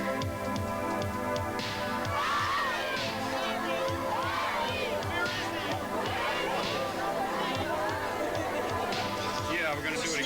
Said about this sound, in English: all the Ethiopians were screaming